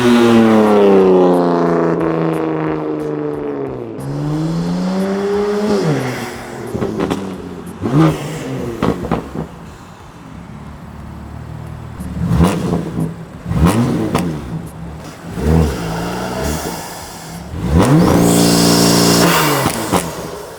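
Sports car engine revving hard with a loud, deep intake roar, repeated sharp throttle blips rising and falling over about twenty seconds, close and dominant.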